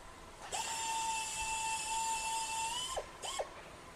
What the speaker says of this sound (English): We'll pre-drill the holes into the panel.